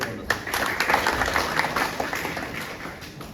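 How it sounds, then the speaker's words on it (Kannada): Audience at a jayanti commemoration ceremony for Devaraj Urs clapping in a sustained burst of applause, a dense fairly close patter that swells and slowly fades, with speech blending in. "ಎಲ್ಲರೂ ಕೂಡ ಚಪ್ಪಾಳೆ ತಟ್ಟೋದ್ರ ಮೂಲಕ"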